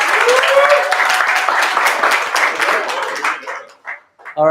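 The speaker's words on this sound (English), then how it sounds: "Big round of applause to PureDAO." A crowd at an incubator program graduation party gives a close, loud round of applause for the PureDAO team. The clapping thins out and dies away after about three seconds, and a voice briefly begins speaking at the very end.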